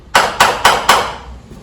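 A railway signal box block bell at Exeter West rings four evenly spaced beats, loud and close, each strike leaving a short metallic ring that decays before the next.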